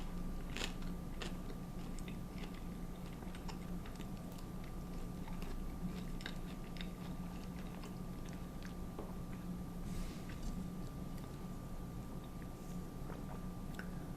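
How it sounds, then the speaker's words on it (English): Close, steady crunching and chewing of warm, crunchy Tim Hortons potato wedges, with repeated small bites and mouth sounds running continuously under a low background hum. "Let's go in for a bite."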